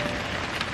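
Steady rain pours down at a campsite on a windy, stormy day, a dense, even hiss of drops filling the short stretch with no break.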